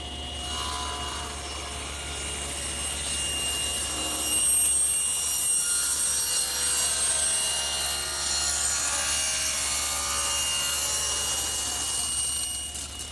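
Table saw ripping tapers on wooden table legs with a taper jig, a steady high motor whine with continuous cutting noise throughout, loud and close with no talking.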